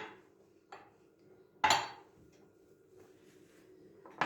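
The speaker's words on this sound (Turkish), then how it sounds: "Şöyle bulaşıkları da lavabonun içine alayım." Dirty dishes are set into a kitchen sink, giving a few sharp clatters spread apart, one notably louder, with faint knocks between them in a quiet room.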